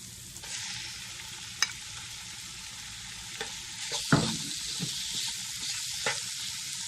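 Chicken pieces hit a hot pan for mayonnaise chicken pasta, bursting into a bright, even sizzle punctuated by a few sharp stirring clicks and one louder clatter, with no talk.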